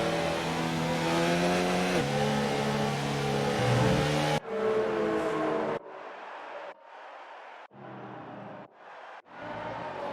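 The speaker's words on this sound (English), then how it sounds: "the cars aren't too loud either." Racing cars in a simulated Hungarian Grand Prix formation lap, a steady dense engine drone that suddenly drops to quieter, intermittent engine bursts with gaps between them, no talk.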